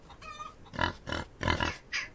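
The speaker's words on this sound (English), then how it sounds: "Yeah, them pigs is noisy." Pigs oink and grunt in a farm pen in the Old West video game Outlaws of the Old West: four or five close, loud grunting bursts in a choppy rhythm, with no talking over them.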